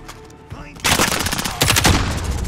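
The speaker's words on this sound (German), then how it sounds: "Werde hier beschossen!" Rapid automatic gunfire in Call of Duty Warzone, loud close bursts that start after a quieter moment and intensify with a second heavy volley, dense and continuous.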